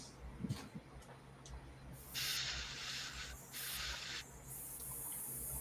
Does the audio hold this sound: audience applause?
no